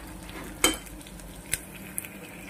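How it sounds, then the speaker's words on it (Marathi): Chopped green chillies, four or five of them, frying in hot oil in a pan for khichdi, with a low steady sizzle, a sharp clatter near the start and a couple of lighter taps. "4-5 मी हिरव्या मिरच्या चिरून घेतलेल्या आहेत, यामध्ये मी टाकत आहे"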